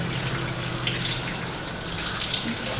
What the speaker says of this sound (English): This is my first shower in the Southern Hemisphere